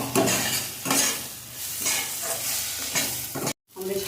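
Leafy greens frying in a pan are stirred in a village home kitchen, with repeated scraping strokes over a loud, continuous sizzle that cuts out briefly near the end.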